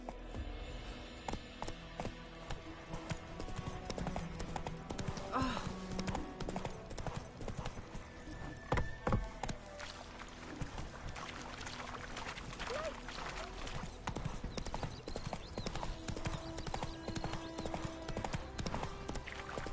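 Hooves of Roach, the horse in The Witcher 3, clip-clop in a fast, steady rhythm at close range for the whole stretch, with a faint voice speaking now and then over the hoofbeats.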